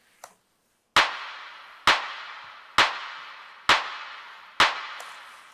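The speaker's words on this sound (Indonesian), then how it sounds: "Clap-nya bunyinya kayak gini." A clap drum sample in a beatmaking session, five sharp, evenly spaced hits, each with a short decaying tail, after one faint click.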